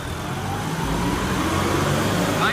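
A Swaraj 855 tractor engine revs loud and close, a steady heavy rumble that rises slightly toward the end.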